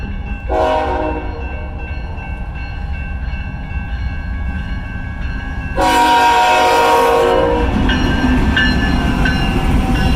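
Amtrak California Zephyr passenger train at Burlington, Iowa, with a passing freight led by a GE Evolution (GEVO) locomotive: a loud, steady horn blast begins early, then a louder second horn burst sounds over continuous rail rumble and rolling noise.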